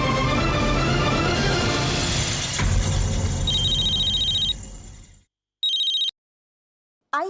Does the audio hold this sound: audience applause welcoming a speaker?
no